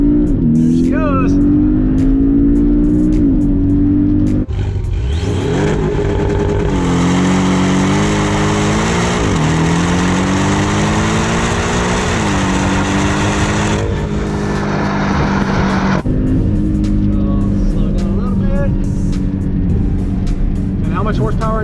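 Porsche 718 Cayman S engine at full throttle, loud and close, climbing through revs with sharp drops at gear changes, with voices talking over it.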